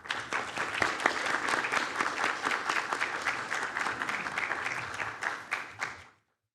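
An audience at a conference opening plenary in a ballroom applauds to send off the panel at the table, dense even clapping that holds steady for about six seconds before cutting off abruptly.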